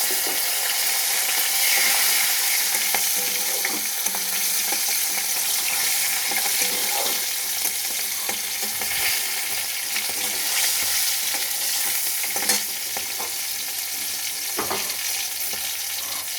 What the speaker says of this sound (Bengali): এবার আমি ফোড়ন দেব, মেথি সম্বার দিলাম,